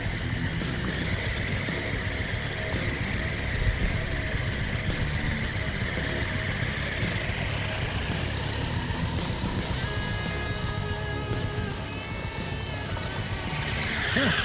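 A Redcat Everest 10 radio-controlled crawler with Axial Ryft solid axles runs on a test drive, giving a continuous motor whir and drivetrain rumble with a rising electric whine near the end.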